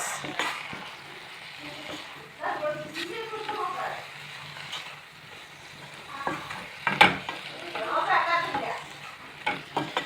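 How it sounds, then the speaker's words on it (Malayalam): Food stirred in a pan with salt and turmeric powder, a soft scraping and sizzling that runs on and off at moderate level, with a few louder clatters of utensil against pan and someone talking over it. "ഇത് ഉപ്പൊക്കെ ഇട്ട് മഞ്ഞപ്പൊടി ഉപ്പൊക്കെ ഇട്ട് ഇളക്കി"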